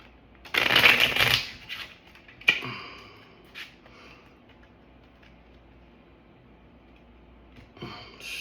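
A deck of tarot cards is shuffled in one dense riffling burst lasting under a second, followed by a single sharp snap and a few faint handling clicks, then near silence.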